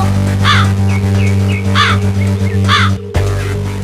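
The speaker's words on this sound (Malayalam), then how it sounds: "എന്റെ നെയ്യപ്പം കാക്ക തട്ടിപ്പറിച്ചു കൊണ്ടുപോയി" A crow caws three times in loud, harsh calls after snatching a sweet fried neyyappam, over a steady droning background hum.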